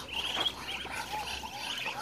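Faint birdlike calls and soft quacks sound at a distance over outdoor background noise.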